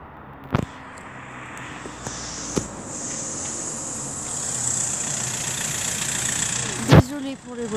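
Cars drive along a village street, and their engines swell into a steady, building rumble. Sharp clicks and knocks break in at a few points.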